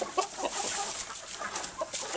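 Backyard hens and one old rooster, a mix of barred rock and Rhode Island red Polish silkie crosses, clucking in a quick run of short, close calls with no talk over them.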